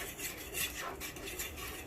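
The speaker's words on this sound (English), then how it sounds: "And just stir that in." Utensil stirring Jamaican brown stew fish in a cooking pot, a steady soft scraping and clinking with faint liquid movement, close by and continuous without talk.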